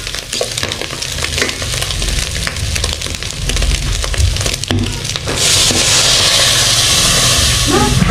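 A cooking pot comes to a rolling boil, with steady hissing, bubbling and frying-like sizzle throughout, and the steam grows louder and broader in the final few seconds.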